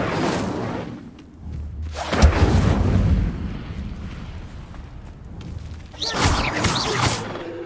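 The Incendio fire spell in Hogwarts Legacy goes off in repeated whooshing, booming bursts of flame, loud and close, with a big surge early on and another flare near the end.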